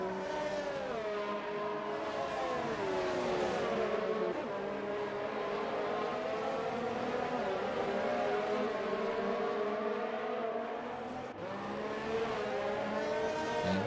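Race cars in F1 2019 at the Hungary circuit hold a steady, loud, droning engine whine that rises and falls in pitch through gear changes as they round a corner, with no talk over it.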